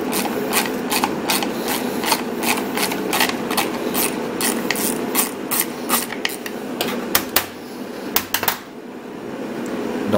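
Ratchet wrench working a 7/16 nut off the bar of a Homelite Super 2 chainsaw: a steady run of sharp, close clicks in quick rhythm, pausing briefly near the end before a few last clicks.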